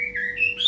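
A white-rumped shama (murai batu) songbird, kept as a pet, gives a single clear, close whistled chirp that slides upward in pitch.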